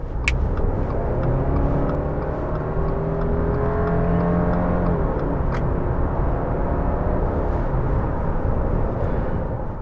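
A 2021 Subaru Crosstrek Sport with symmetrical all-wheel drive cruises on a highway, its steady road and engine drone loud and continuous with shifting tonal whine throughout, no talking.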